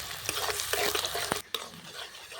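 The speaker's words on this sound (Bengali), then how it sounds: "ভালো করে একটু ভেজে নেব।" Chopped onions frying in a pan for achari chicken, with a dense continuous sizzle broken by clicks and scrapes of stirring, fairly close, with a brief pause before the sizzle resumes and no talk.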